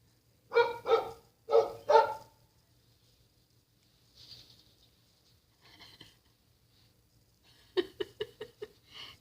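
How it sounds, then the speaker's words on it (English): Dogs barking behind a gate, two quick paired bursts of barks near the start, then a rapid volley of yips and barks toward the end, with quiet gaps between. "Dogs or something."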